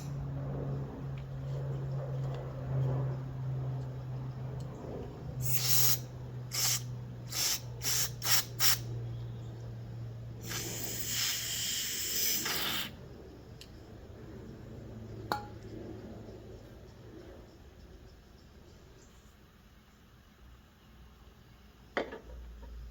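Brake cleaner goes into the passages of a Craftsman push mower carburetor in a rapid series of short hissing bursts, followed by one longer sustained spray. Quieter handling noises and faint clicks come after.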